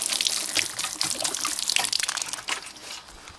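Water splashes and trickles from a can onto sunflower seed trays, a close, continuous bubbling pour with small dribbles and drips that thins toward the end.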